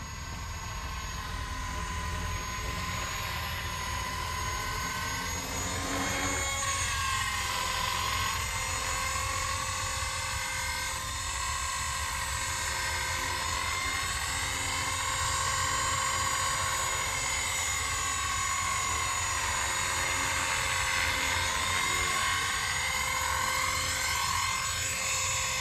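A Blade 230s v2 RC helicopter flies steadily with a constant rotor buzz and motor whine that shifts a little in pitch as it maneuvers, continuous and moderately loud throughout.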